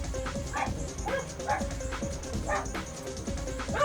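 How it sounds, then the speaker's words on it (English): Neighbours' dogs barking and yipping outside, a run of sharp repeated barks at a moderate distance over low room noise. "I apologize if you hear dogs."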